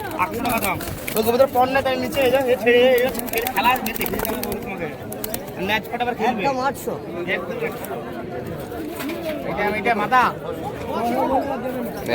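Giribaz pigeons at a busy pigeon market, with soft cooing and bird calls mixed into steady crowd chatter and close voices talking throughout.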